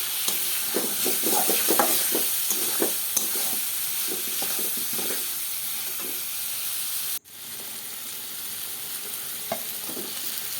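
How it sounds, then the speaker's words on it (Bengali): Potatoes fry with already-fried spices in a pan: a close, continuous sizzle broken by clustered stirring clicks and scrapes early on, then a brief dropout before the steady frying resumes. "এবার আমি এর মধ্যে আলুগুলো দিয়ে দিলাম।"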